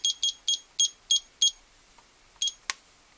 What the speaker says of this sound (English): And I'm going to set this timer for 10 minutes.